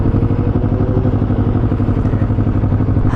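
Many motorcycles at a biker gathering rumble steadily nearby, a thick, continuous throb of engines with a pulsing low-pitched beat and no clear breaks.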